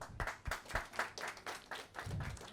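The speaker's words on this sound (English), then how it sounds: "Big round of applause for her." A handful of distinct claps in an irregular rhythm, fairly faint and close, like a small group applauding briefly at a magazine launch event.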